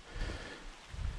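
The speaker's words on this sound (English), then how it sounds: "Probably hear it's raining now." Rain patters steadily on tree foliage along a woodland walking path, a soft, faint hiss with low gusty rumbles underneath and no voices.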